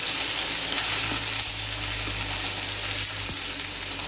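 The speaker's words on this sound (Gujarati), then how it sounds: "કરી નાખશું બરોબર મિક્સ." Spices with chili powder and coriander-cumin powder frying and being stirred in a pan on low heat, a continuous close sizzle with occasional scraping, no voices.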